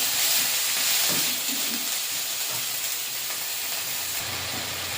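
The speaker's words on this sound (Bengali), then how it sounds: "দিয়ে মশলাটা ভালো করে কষিয়ে নেব।" Coriander and cumin spice paste frying in oil for an okra and prawn curry, a steady broadband sizzle with hissing steam, continuous and fairly loud throughout with no voices.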